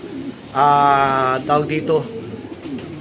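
A racing pigeon gives a short, throaty coo close by, with someone talking in Filipino around it.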